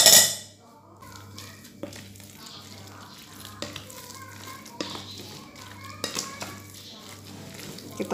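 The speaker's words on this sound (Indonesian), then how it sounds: "Kita aduk-aduk sampai semuanya menjadi satu." A large spoon stirs a mashed potato and chicken mixture with egg, shallots and chilies for bergedel in a home kitchen, giving repeated soft scraping and clinking strokes against the bowl while children play and voices chatter in the background.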